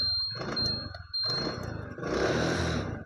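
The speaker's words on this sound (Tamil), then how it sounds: "ஆன் பண்ணுறேன் பாருங்கள் செல்ஃபு போட்டேன்" A 2016 TVS Jupiter scooter starts on its self-starter, with a few short bursts of engine noise before it settles into a steady, close idle.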